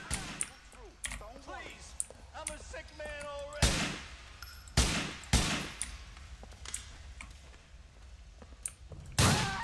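Scattered pistol shots in Grand Theft Auto IV, single sharp cracks spaced irregularly at moderate loudness amid game ambience, with a voice heard between them.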